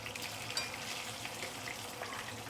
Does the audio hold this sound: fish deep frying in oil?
yes